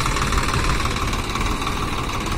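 A Swaraj 744 XT tractor engine labours steadily while pulling a trolley loaded with wet cow-dung manure, a continuous close, loud diesel drone with a rough, knocking texture and no pauses.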